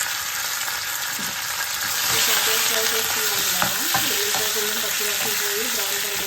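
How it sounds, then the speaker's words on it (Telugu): A tempering of mustard seeds, cumin and curry leaves sizzles loudly in a pan, a dense constant frying hiss broken by scraping stirs of a spoon against the metal. "తాలింపు ఫ్రై అయిపోయింది కదా ఇప్పుడు ఇది పప్పులో వేసేసుకుందాం"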